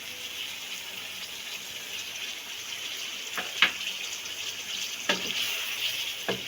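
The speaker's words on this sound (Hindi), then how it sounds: "चिकन को हम मसालों के साथ इसे फ्राई करते हैं" Chicken frying with spices in a pan for a white creamy chicken karahi: a continuous, even hiss of sizzling oil up close, with a few sharp knocks of a spoon stirring.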